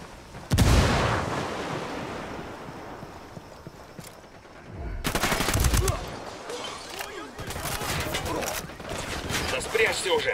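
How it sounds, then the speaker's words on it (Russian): In the Ghost Recon Wildlands video game, a grenade thrown into cover bursts with a sharp blast, followed later by a second explosion. Scattered gunfire fills the gaps, and a voice may speak underneath the combat. "Граната в укрытие."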